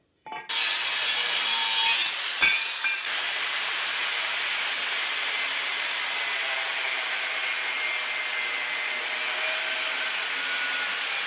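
Continuous loud power-saw cutting through steel stock for a riveted guillotine tool, a steady grinding whine running nearly unbroken after a brief start, with a short pause near two seconds.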